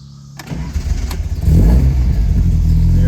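A 1971 Alfa Romeo GTV engine starting from cold: a brief crank, then it catches and rises to a loud, steady, rough run close by.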